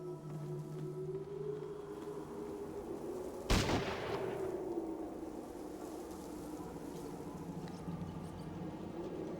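A single loud shot, likely from a shotgun, rings out in the video game Fallout Tactics: Brotherhood of Steel and decays quickly over a low steady game drone.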